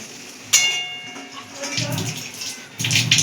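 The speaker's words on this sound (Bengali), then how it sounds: "আর সামান্য একটু এই থালাটা ধুয়ে সামান্য একটু জল দিয়ে দেবো।" Water splashes into a pan of pointed gourd curry in bursts, a bright rushing pour that starts, pauses and resumes over a low kitchen background, fairly close and loud.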